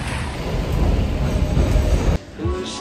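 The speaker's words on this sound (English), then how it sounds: "It's a walk in the pouring rain" Heavy pouring rain drums steadily during a walk through New York City, a loud broadband wash that cuts off abruptly near the end, leaving quieter street ambience.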